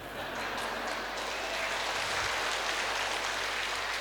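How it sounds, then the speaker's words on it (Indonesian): Seminar audience clapping at a family seminar, a steady, distant wash of applause held for the full four seconds at low volume. "Bapak jangan tepuk tangan dulu Pak"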